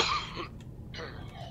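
A single person coughs and clears their throat during a video game session, two short raspy bursts close up with a pause between them.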